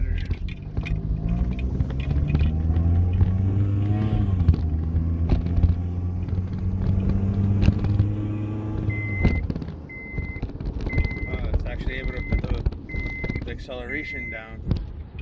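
A Honda CR-V with a custom transmission mount accelerating on the road: a low engine drone rising in pitch through a gear, then road rumble with a repeating electronic chime, heard from inside the cabin as someone speaks.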